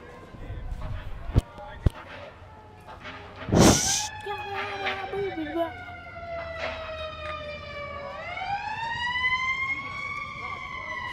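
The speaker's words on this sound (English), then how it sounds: "Fire engine going down the street behind the field." A fire engine siren passing on a street behind a baseball field, starting faint under crowd noise and a sharp clap, then rising in a steady wail and sweeping upward as it comes closer, heard over distant talk.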